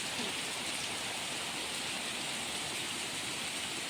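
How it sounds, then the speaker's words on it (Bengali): Heavy rain pours down in a dense, even hiss, a steady close wash of water with no pauses and no talk. "কি পানি দেখেন, পানি পড়ছে, কিভাবে পানি পড়ছে দেখছেন, বহু বৃষ্টি।"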